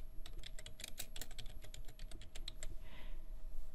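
Quick bursts of keystrokes on a computer keyboard while a project title is typed in, a close, uneven clatter of about twenty clicks that pauses near the end.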